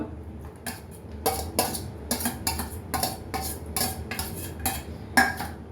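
Sliced onions are stirred in a pan, with about a dozen sharp metallic scrapes and clinks of a utensil against the pan in a quick, uneven rhythm, close and clear over a low background hum.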